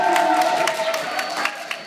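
Audience applause at a Christmas concert in Eriksdal, a dense wash of many hands clapping with some cheering, steady and fairly loud throughout without a clear break.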